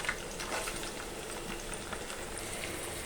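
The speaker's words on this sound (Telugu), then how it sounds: "ఇప్పుడు ఉల్లిపాయ ఇది బాగా వేగాలి" Onions frying in oil with green chillies and curry leaves, a steady soft sizzle and bubbling crackle that carries on evenly and fairly quietly without pause.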